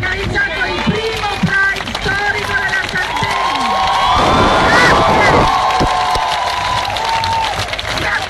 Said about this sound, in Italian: Io vorrei che voi vi faceste un applauso a tutti coloro che oggi hanno organizzato il primo